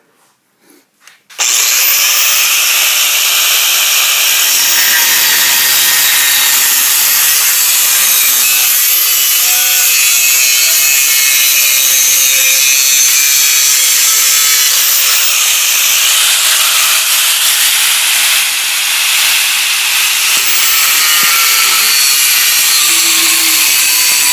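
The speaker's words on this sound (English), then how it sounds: "make sure you're using eye protection when you're cutting with these cut-off wheels" A cut-off wheel grinding through metal on a 1993 Jeep Cherokee XJ door, a loud, continuous high-pitched shriek starting abruptly after a brief pause and holding steady throughout.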